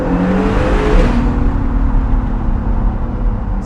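A 2019 Acura NSX accelerates hard with a steady, fairly monotone exhaust drone and whooshing intake rush, heard loud and close from inside the car with no talking.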